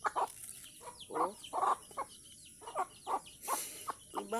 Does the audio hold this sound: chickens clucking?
yes